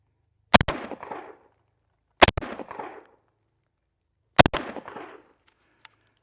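A Tavor X95 rifle fires three loud, sharp double-crack shots spaced about two seconds apart, each followed by a short echoing decay outdoors, then a faint click.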